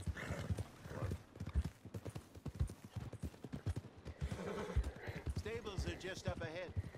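A horse's hooves clip-clop in a steady, rapid rhythm on a trail in Red Dead Redemption 2, with a brief whinny, while someone talks over the game sounds throughout.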